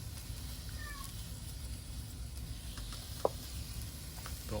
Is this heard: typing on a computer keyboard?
no